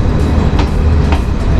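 A train rolling along the tracks as it pulls into a station, giving a loud, steady rumble with a couple of sharp rhythmic wheel clicks.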